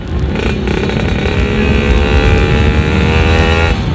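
A two-stroke motorcycle engine running on Castrol Active 2T oil revs hard and steadily, a loud buzzing drone with rising harmonics held for several seconds without a break.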